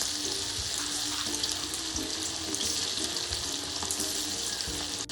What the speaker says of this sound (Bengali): মাংস আমি তেলের মধ্যে দিয়ে দেবো।